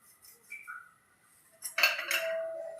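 A short metallic clink and rattle sounds as oiled gathiya dough goes into a metal sev press, after a few soft handling taps, then a brief ringing scrape that fades out.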